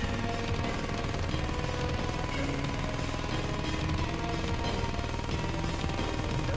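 A boss in the Terraria Ultranium mod shoots at the player in a relentless, loud, steady barrage of rapid-fire shots layered over busy game music, with no break throughout.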